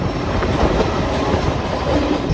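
A goods train rolls past at Kharagpur junction, a steady dense rumble with clickety-clack of wheels on rails, loud and close throughout with no talk.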